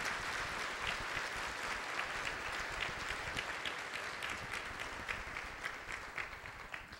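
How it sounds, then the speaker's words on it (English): A crowd claps steadily in sustained applause, a dense, even patter of many hands that carries on throughout. "I'd like to give you a round of applause"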